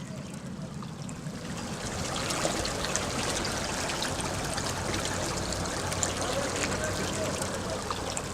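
Water runs along an Omani falaj irrigation channel as a continuous rushing trickle that grows fuller after a couple of seconds and then stays steady and close.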